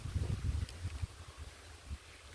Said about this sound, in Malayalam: അപ്പോൾ ഇന്നിവിടെ ഭയങ്കര കാറ്റാണ് കേട്ടോ.